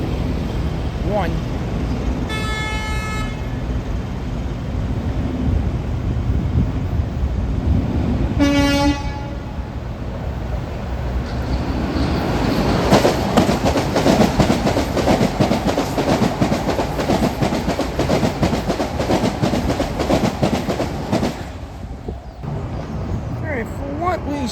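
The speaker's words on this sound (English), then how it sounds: "New Haven line train, that is." A New Haven Line commuter train rumbles past with a steady roar and rattle, its horn sounding twice in short blasts over the noise.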